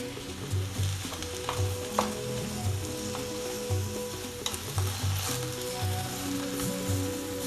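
Mushrooms grilling in a pan for Cameroonian egusi soup, a loud, steady sizzle of frying with occasional stirring clicks and scrapes, no talk.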